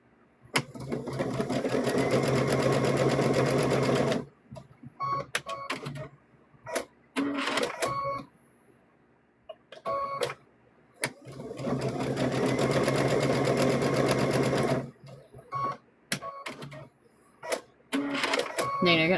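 A sewing machine stitches the foot of a stuffed bear, running loudly in two long steady bursts and several short stop-start runs, with a person talking during the gaps.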